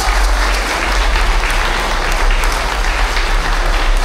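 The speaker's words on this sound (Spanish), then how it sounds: "¡Un aplauso a la Virgen de Guadalupe!" Pilgrims applaud in the street on the eve of the Guadalupe feast, a steady dense wash of clapping from a crowd that holds loud and unbroken throughout, with a low rumble underneath.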